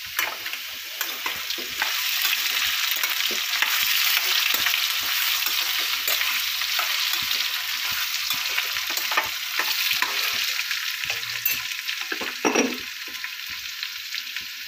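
Potatoes with salt fry in a pan with a continuous, loud, close sizzle and occasional stirring scrapes, with no talk over it.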